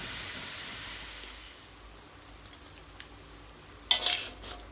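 Oroxylum (ma lit mai) pods dry-roasting in a pan, a soft steady hiss and faint rustle that fades, then a brief sharp scrape or clatter near the end.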